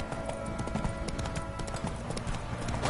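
Horse hooves clip-clop in a steady, brisk rhythm across a PS4 game soundscape, the trotting loud and close under a faint bed of game ambience.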